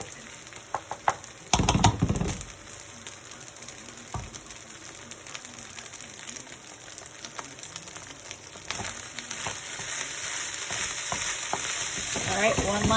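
Mongolian chicken fried rice being stir-fried in a pan, a steady crackling sizzle with scraping stirs and a sudden clattering toss, the frying growing louder toward the end.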